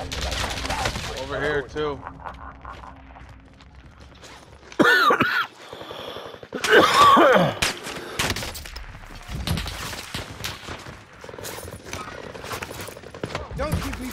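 Rapid video game gunfire in a team shooter, with bursts of shots and mechanical clatter, while several players talk over the action.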